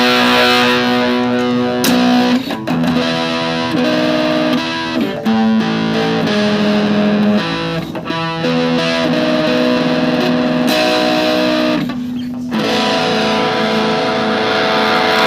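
An electric guitar with heavy distortion plays sustained chords and riffs through a Lekato mini guitar amp, loud and continuous with brief gaps between phrases.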